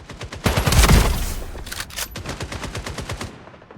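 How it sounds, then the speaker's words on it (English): Gunfire in the video game FragPunk: a rapid automatic burst of shots rattles out, strongest early on, then continues in quicker, fainter rapid shots that fade toward the end. "we just heard the shooting in this direction"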